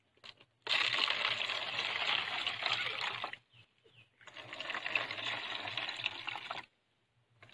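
Water pours into a plastic bottle in two steady streams of a few seconds each, a hissing, gurgling flow separated by a short pause.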